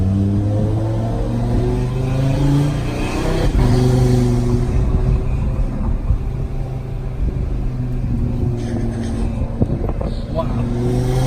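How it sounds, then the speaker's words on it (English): A car's turbocharged engine revs hard and loud on a test drive, a thick droning roar with rising and falling pitch held throughout, with turbo whoosh and people talking over it. "The turbo is so loud."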